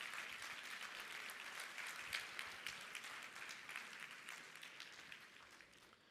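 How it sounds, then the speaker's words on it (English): A crowd applauds at an award event during Alibaba.com CoCreate EU, a sourcing event. The dense, fairly distant clapping runs steadily for several seconds before tapering slightly, with no voices over it. "Big welcome, big applause, please."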